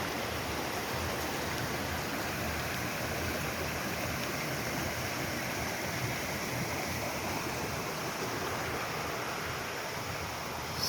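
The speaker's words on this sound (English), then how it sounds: "And as you can see, it started to rain again." Steady, even rain hiss fills the woods without pause, a dense broadband patter with no voices or other distinct sounds.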